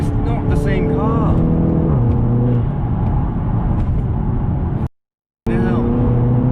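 Audi TT 2.0 TFSI Quattro Mk3 with a Stage 1 remap accelerating hard, engine drone rising in pitch through gear changes, loud and close from inside the car, with a person talking excitedly over it and a brief dropout near the end.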